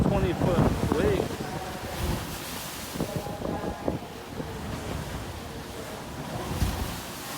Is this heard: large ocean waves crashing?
yes